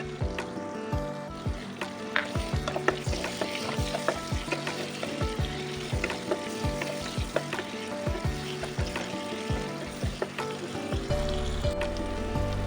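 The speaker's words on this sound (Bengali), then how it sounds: "এবারে ওই তেলেই দিয়ে দেবো 2টো কুচিয়ে রাখা পেঁয়াজ। পেঁয়াজটা ভালো করে ভেজে নেব।" Chopped onions fry in oil for a restaurant-style murgh musallam, giving a loud, steady, close sizzle with repeated clinks and scrapes of stirring throughout and no talking.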